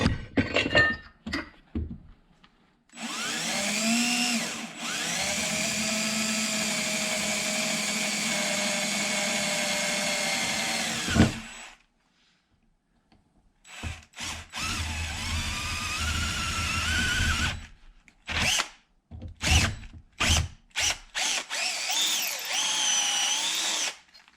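Power drill whirring steadily for several seconds while drilling metal for a supercharger manifold on an X2, then stopping, followed by short bursts of drilling and clinking metal; close and loud, no talking.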